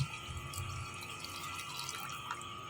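Water runs into a pot of soaked rice for matar pulao, a steady splashing pour with faint dripping, close and continuous with no talk.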